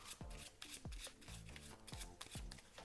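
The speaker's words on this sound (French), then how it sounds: "je coupe à peu près cette partie-là et je mélange toutes les cartes" A deck of playing cards is shuffled by hand, close and soft, with a run of quick riffling bursts and flicks repeating about every half second, no voices.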